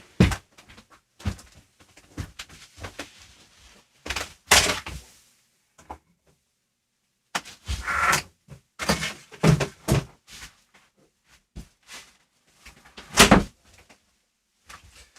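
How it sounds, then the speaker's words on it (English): A studio door is pushed shut amid scattered thumps and knocks, several loud sharp impacts spread across a quiet stretch with pauses in between. "I had to close the door to my studio because people were walking by and distracting me."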